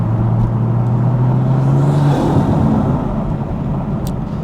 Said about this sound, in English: A roaring start from the Fiesta, giving it some on the public roads